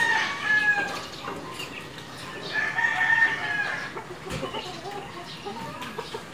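Several chickens cluck and call intermittently at moderate distance, with a few sharper squawks among the chatter over quiet outdoor background.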